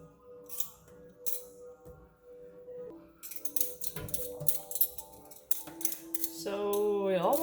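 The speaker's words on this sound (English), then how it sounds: "So, peel the potato, plain and simple." A potato scraped with a hand peeler for homemade baby food, short rasping strokes in irregular bursts close by, with a faint sustained tone underneath and soft piano music rising toward the end.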